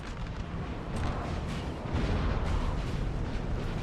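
Cannon fire from 6-pounder artillery in Napoleon Total War, a continuous rumbling barrage of distant booms layered into dense battle noise, fairly steady throughout.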